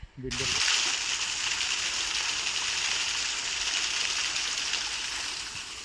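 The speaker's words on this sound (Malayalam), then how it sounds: "ചെറിയ വെള്ളച്ചാട്ടം" A small forest waterfall pours in a steady, dense rush of water that begins abruptly after a short moment and holds at an even, moderately close level throughout.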